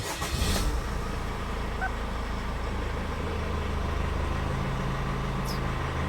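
A Chevrolet Captiva with fault codes P2138 and P2122 starts with a brief burst, then settles into a steady, even idle with light throttle, running close and alone.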